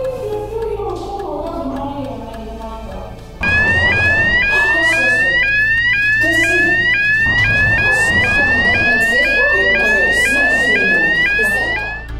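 An electronic office alarm, set off by a panic button under a desk, suddenly starts, a rapid repeating rising whoop that keeps sounding loudly over busy background noise.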